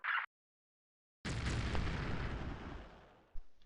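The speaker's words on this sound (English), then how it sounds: "Those are your artillery shots over there, if you didn't catch on to that" Artillery shells land in the real-time strategy game Dark Reign 2, a single heavy boom that bursts suddenly after a short blip and near-silence, then rumbles and slowly fades with a faint pop at the end.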